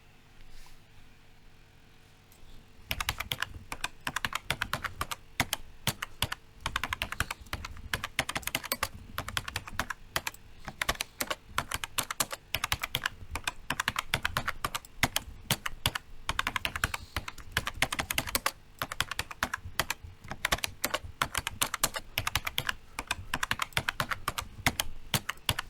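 Steady typing on a computer keyboard, dense rapid key clicks in uneven bursts that start after a few seconds of quiet and continue close and clear to the end, with no voice.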